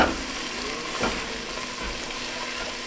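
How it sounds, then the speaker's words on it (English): Three garlic cloves sautéing in a pot for a creamy white lasagna soup: a constant close sizzle with a soft stirring scrape near the start, no talking. "now we're going to add in 3 cloves of garlic. And then we're going to cook this for about 2 minutes"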